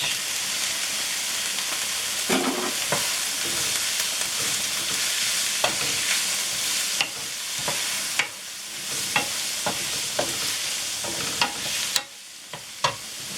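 Shrimp sizzling steadily in a hot pan, a continuous loud fry broken by sharp scraping stir strokes and clinks of a utensil, with no voices.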